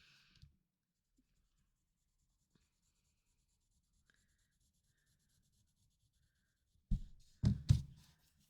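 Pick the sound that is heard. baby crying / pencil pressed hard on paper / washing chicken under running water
pencil pressed hard on paper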